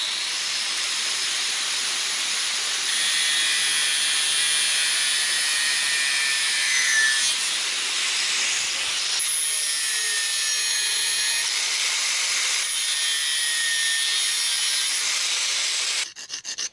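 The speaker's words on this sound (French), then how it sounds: "je coince ma cimère dans un étau et je vais couper les têtes de vis qui vont me gêner" Steady hand sawing through screw heads clamped in a vise, working on front car body panels: a continuous raspy hiss of strokes, loud and close, running for most of the clip alone without voices.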